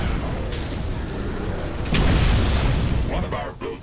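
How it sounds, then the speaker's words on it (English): Wall being destroyed in The Riftbreaker video game, a dull, rumbling burst that swells midway through a noisy stretch of game sound, with a short voice near the end. "Wall destroyed."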